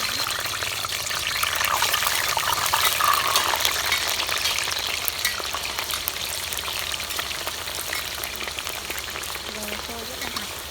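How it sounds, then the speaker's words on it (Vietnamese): Potatoes for crisp French fries crackle and sizzle in hot, well-heated oil, a steady broadband frying hiss lasting throughout, fairly loud and close with scattered popping bursts. "Mọi người ơi, dầu cũng đã già rồi ạ, sủi rồi. Bây giờ mình sẽ cho khoai tây vào."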